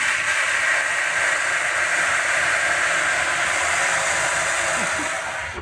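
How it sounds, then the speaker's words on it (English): Boiling water is poured into a hot home oven to make steam for baking sourdough. It hisses and roars steadily and loudly for several seconds, then fades slightly at the end, with no talking. "I'm going to add some boiling water into there to get some steam."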